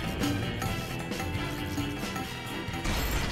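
A large end-of-map explosion in the Team Fortress 2 video game, a loud continuous crashing and rumbling roar with debris-like clatter that fills the whole stretch.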